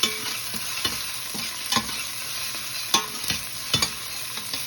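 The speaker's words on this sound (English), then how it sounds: "Keep stirring. See, the garlic is not burned." Garlic fries in oil while a spoon stirs it, a bright steady sizzle broken by periodic scraping strokes against the pan, close and without talk.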